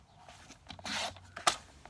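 A paper trimmer slices through a sheet of Whisper White cardstock in a short scraping swipe, ending in a sharp snap of the blade; quiet and close.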